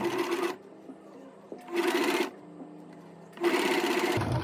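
Sewing machine stitching bias tape along a curved edge in three short loud bursts of rapid stitching, separated by pauses with a faint hum.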